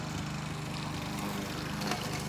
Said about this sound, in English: Back up the lawnmower.